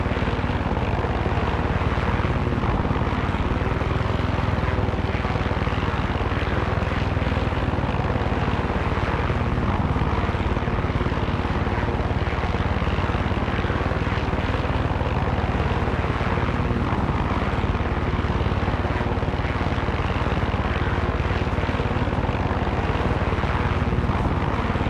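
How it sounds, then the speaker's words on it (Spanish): A helicopter in the Far Cry 6 video game flies steadily with a loud, continuous rotor and engine roar that never lets up, filling the whole stretch without any voices. "Que vaya muy rápido el helicóptero,"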